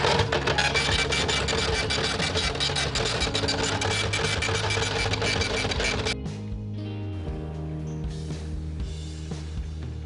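An Epson TM-U220D dot-matrix receipt printer runs its self-test, giving a loud, continuous rapid buzzing rattle of the print head for about six seconds. It then drops to a quieter mechanical hum.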